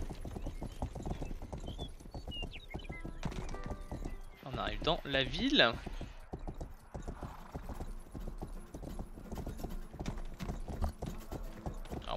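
Horse hooves clip-clopping in the medieval game Rustler, a quick steady trot running throughout beneath someone talking, with a brief whinny in the middle.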